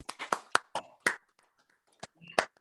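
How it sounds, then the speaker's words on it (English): A scattered handful of hand claps from a small audience on a video call, uneven and sparse, with sharp separate smacks rather than a full ovation, then dying away. "please give a round of real applause to Pedro Molina and Barbara Adams"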